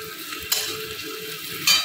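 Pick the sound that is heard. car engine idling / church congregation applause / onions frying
onions frying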